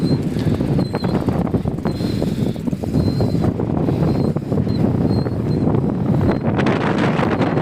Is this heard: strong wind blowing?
yes